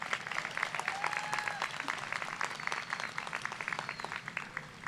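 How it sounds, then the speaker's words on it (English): A commencement crowd claps in a dense, sustained burst of applause, with sharp individual claps cutting through the steady roar and a few faint cheers or voices mixed in. "Let's have one more round of applause for you."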